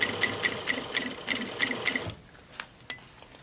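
A sewing machine stitches a fabric face mask in a rapid, even run of close mechanical clatters, then stops, leaving a few soft handling clicks.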